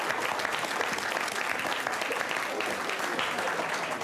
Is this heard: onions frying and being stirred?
no